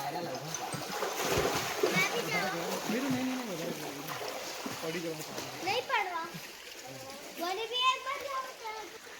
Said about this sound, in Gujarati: જો આ બાળકો નાય છે અંદર